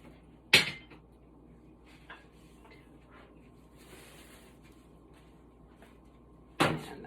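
Kitchen cupboard opened and closed while fetching a mortar and pestle: two sharp bangs several seconds apart with faint rummaging and small knocks in between in a quiet room.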